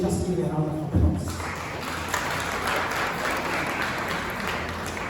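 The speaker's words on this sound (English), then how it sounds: "can you just give a round of applause?" Applause swells up after a brief thump and keeps going as a steady, dense clatter from an audience at a government event on refurbishing industrial parks. Voices murmur underneath.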